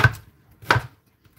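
A knife chops through pineapple on a board for a blender drink, two crisp cuts spaced well apart with a third starting at the end, close and clear with no talk.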